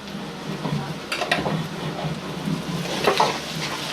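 Catfish frying with salt and ground spice paste of ginger and garlic in a pan in a village kitchen, a close crackling sizzle with intermittent stirring scrapes and clatters.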